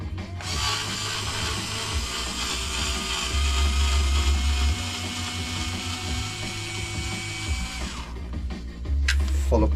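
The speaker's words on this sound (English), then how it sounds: "I'm going to take your 2 suspension screws off." A power tool whines steadily as it backs out the suspension screws on an MJX 10210 RC car, running for about eight seconds and then spinning down, with short handling clicks and a brief second burst at the end.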